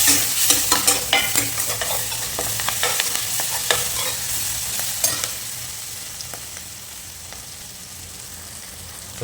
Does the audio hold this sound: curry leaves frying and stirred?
yes